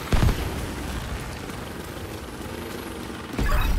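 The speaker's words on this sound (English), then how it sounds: "The explosion should cause a cave-in that'll put you just inside the wall of the base." A booming explosion in The Division video game opens the clip, followed by a long, rumbling roar that lingers and swells again near the end.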